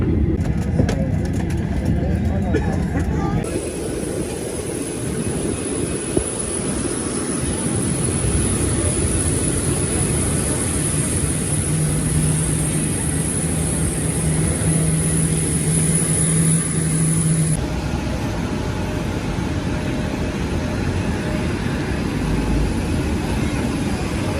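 Airplane cabin just after landing, with passengers waiting to disembark: a steady broadband engine and air-system rumble fills the scene, with a brief tonal whine in the middle and faint murmuring voices throughout.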